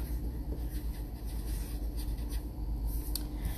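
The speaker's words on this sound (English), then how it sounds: "I'm going to write my name up top." Pen or pencil writing a name on paper, close and continuous scratching strokes with a soft rubbing texture and no talking.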